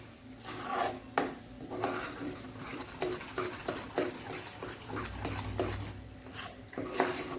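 Black masala being stirred in a cooking pan for chicken sukka: repeated scraping, rasping strokes of a utensil against the pan, fairly close and steady, with no talking.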